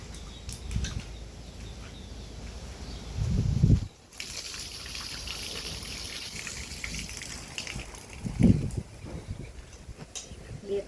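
Water sloshes and pours in two short splashy bursts while mango seed kernels are washed for a homemade mouth freshener, with quieter trickling and handling noise between them.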